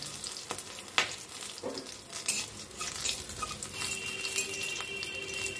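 Bay leaves, cloves and panch phoron crackle in hot oil, a bright continuous sizzle with sharp pops and a few utensil clinks, close and fairly quiet.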